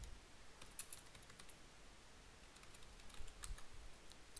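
Typing on a computer keyboard to name a folder, with quiet scattered key clicks in short bursts. Faint and close, with no voices.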